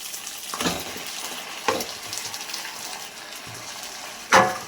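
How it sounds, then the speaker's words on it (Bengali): Marinated chicken sizzles in a pan of fried spice masala with tomato, a steady crackling fry broken by a few louder scraping stirs, close and alone without voices. "এটা দিয়ে ভালোভাবে কষতে থাকবো।"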